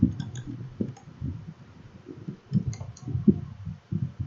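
Faint, scattered clicks and taps at a computer keyboard as a ping command is typed, quiet and irregular with a soft background hum.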